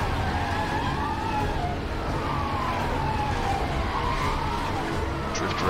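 Wailing police siren sweeps steadily throughout a Need for Speed: Hot Pursuit car chase, layered over continuous engine and road noise, loud and close for several seconds.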